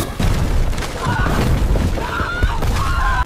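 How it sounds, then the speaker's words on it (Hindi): A loud explosion sound effect for an airliner blast, a dense crashing burst followed by sustained rumbling and debris-like clatter with a faint whining tone. "एक जोरदार धमाका हुआ।"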